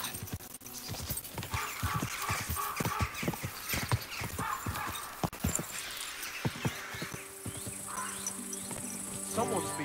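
Horse hooves clip-clop on the ground in Kingdom Come: Deliverance II, an irregular run of close, sharp knocks over a chirping cricket background, with an occasional snort.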